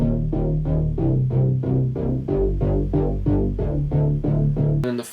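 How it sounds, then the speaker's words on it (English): A synth bass line from a song pulses in steady repeated notes, about three per second, deep and full, playing alone and evenly loud until a sharp cut at the end. "Then after that part, there's a synth bass line."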